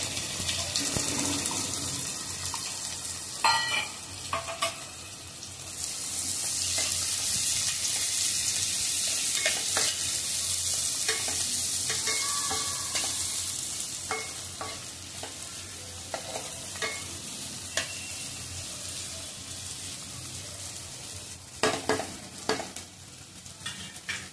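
Chopped onion frying in a pan for fenugreek bhaji, a steady close sizzle with occasional scraping stirs of a spoon, swelling louder in the middle and carrying on without talk.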